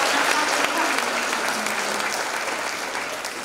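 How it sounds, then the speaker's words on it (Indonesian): Sustained applause from a crowd at a school graduation ceremony, steady and fairly loud throughout, slowly fading toward the end with no voices standing out. "Berikan tepuk tangan kepada para lawan kita."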